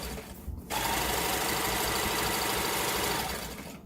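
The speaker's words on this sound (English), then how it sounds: "I'm going to sit right on top of that, and then I'm going to start to sew" A sewing machine runs steadily while stitching the seam of a lengthened circle skirt, starting after a brief pause and holding a close, continuous mechanical whir for several seconds.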